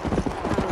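Horse hooves clip-clop at a steady trot in the video game Red Dead Redemption: Undead Nightmare, a quick rhythmic run of muffled thuds heard close and alone.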